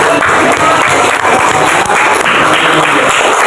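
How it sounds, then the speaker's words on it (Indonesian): A classroom of students claps for a winning team during a lesson on ablution, a loud, close, continuous burst of clapping from a group that fills the whole stretch. "Kasih tepuk tangan dulu"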